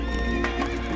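A horse neighs in a loud, close whinny over a steady low hum, with faint hoof clip-clop mixed in and no speech.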